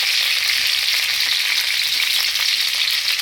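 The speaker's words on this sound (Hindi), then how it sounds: "जब छोंकने जा रही हूँ मच्छी" Red chillies and curry leaves hit hot oil while tempering fish, giving a loud, steady hiss of sizzling frying that runs unbroken and close throughout, with no voices.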